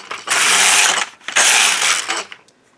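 The carriage of an LK150 knitting machine slides across the needle bed knitting rows, making two loud, rattling mechanical passes of about a second each, separated by a brief pause.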